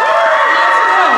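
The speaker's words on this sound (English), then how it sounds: "You're gonna clap and cheer really loud for each contestant." A live audience at a talent competition show breaks into loud, continuous cheering and shouting with whoops, a dense crowd roar held steady and close throughout.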